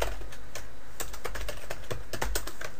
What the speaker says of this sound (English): I'm going to type in my username.